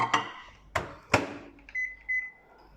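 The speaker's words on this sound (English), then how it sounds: "So right now, I put this in a microwave." A microwave oven set to low power heats a block of soap base, giving several sharp clunks and clicks of the door and buttons followed by short electronic beeps, close and clear with no talking.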